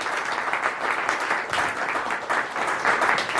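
Audience applause at a VIP reception with talks and panels at the FIVARS 2016 event, a dense steady wash of many hands clapping at moderate distance, swelling slightly in places, with no speech over it.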